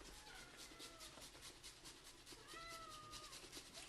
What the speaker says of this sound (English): Oh, our cat wants to go outside.